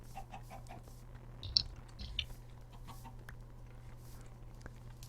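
Chickens in a city-building video game cluck in a few short, faint bursts over a steady low hum, with quiet scattered clicks and no talk.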